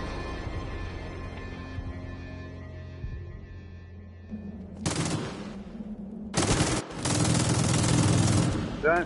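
Machine gun fire in a video game comes in loud sustained bursts in the second half, following a quieter stretch of low hum and tonal game sound.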